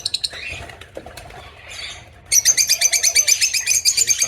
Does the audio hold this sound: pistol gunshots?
no